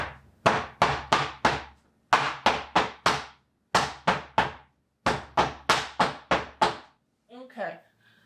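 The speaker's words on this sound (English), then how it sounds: "So now what I'm going to do is I'm just going to tap it on my floor." A mold full of soap batter gets rapped against the floor in quick bursts of four or five sharp thuds, each with a short woody ring, pausing between sets, with a brief murmur at the end.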